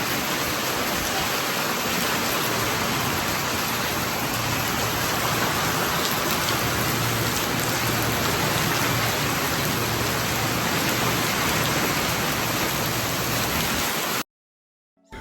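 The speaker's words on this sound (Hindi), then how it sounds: "ये देखिए कितनी तेज की बारिश आई है।" Heavy rain pours down steadily while light sunshine persists, a dense, constant hiss, loud and close, with no voices, before cutting off abruptly at the end.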